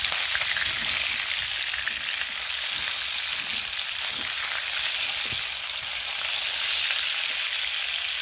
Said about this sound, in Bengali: আর এখন এই যে মাথাগুলো ভাজা হচ্ছে